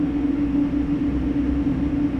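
Airbus A220 jet engines spooling up in a flight simulator, a steady loud rumble with a sustained low hum, no voices over it.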